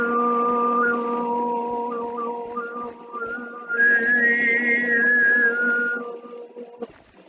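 A man throat singing in the polyphonic harmonic style, a steady low drone with a whistling overtone melody gliding above it, close and alone, with a faint rhythmic ticking underneath.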